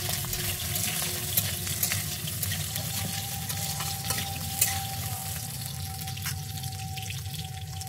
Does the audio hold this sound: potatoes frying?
yes